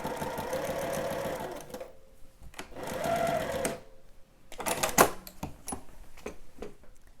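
A domestic sewing machine stitches a dress bodice and its lining together at the neckline in short bursts, close, with stops between them and clicks of handling and adjusting.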